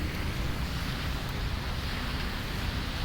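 Water and waves rush in a continuous, even wash of noise with no breaks or voices.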